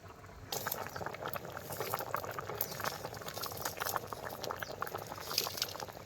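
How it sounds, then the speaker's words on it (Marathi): A pot of masala rice with stuffed brinjal bubbling and simmering steadily, with dense little pops and gurgles close by; no talking, just the continuous boil throughout. "खिचडीतलं थोडंसं पाणी कमी होईपर्यंत याला आपण पाच मिनटं शिजून देवतं"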